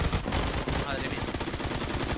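Rapid automatic gunfire from the online shooter Phantom Forces, dense overlapping bursts of shots that continue without pause.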